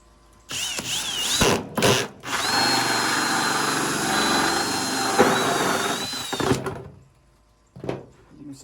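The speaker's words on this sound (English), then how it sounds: "But you just drill your hole through that bucket." A power drill fitted with a 3-inch round hole-saw bit cuts a hole through a plastic bucket, whirring steadily for several seconds with short starts and stops before and after, close and loud.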